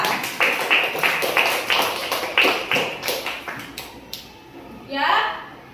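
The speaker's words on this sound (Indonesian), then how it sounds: "Berikan aplaus untuk Depi ya." Children clapping in an elementary school classroom, a short burst of steady, close applause that fades out, followed by a brief voice.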